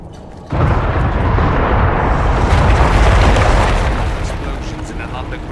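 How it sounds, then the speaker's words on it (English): A loud, rumbling blast erupts suddenly and keeps roaring as a sustained explosion in an underground ruin in Dragon Age: Inquisition, slowly fading toward the end. "Explosions in an underground ruin."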